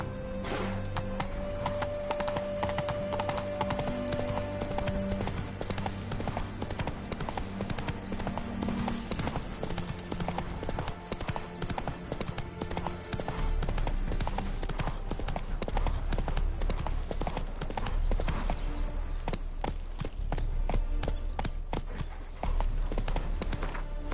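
Horse hooves clip-clop steadily in the video game The Witcher 3, a fast rhythmic trot under game music and ambient sound, with brief talk in places.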